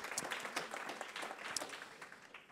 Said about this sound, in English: we'll give him one more applause